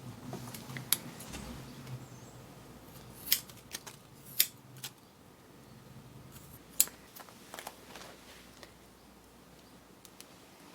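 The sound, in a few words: scissors cutting hair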